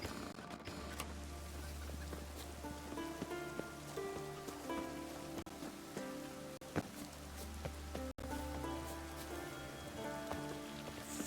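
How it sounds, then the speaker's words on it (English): Steady rain in The Witcher 3: Wild Hunt patters on surfaces, a dense continuous hiss with a low drone underneath and a few sharp clicks, no talking. "Raining."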